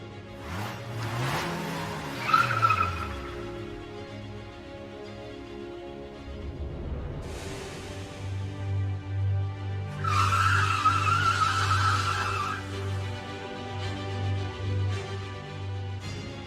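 A racing car with its tires skidding and squealing as it speeds down a winding hillside road. Loud, sustained screeches come in two long bursts over a steady engine drone, with no voices.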